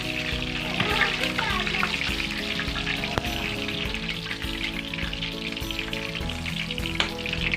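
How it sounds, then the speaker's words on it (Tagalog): Chicken legs, coated for a spicy hot dish, fry a second time in hot oil in a pan, giving a steady, close, busy sizzle with crackling pops throughout and no talking. "i-second fry na natin to para mas lalo lumutong"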